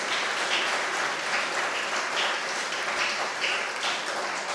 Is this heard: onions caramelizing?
no